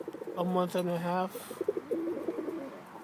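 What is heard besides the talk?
roller pigeons cooing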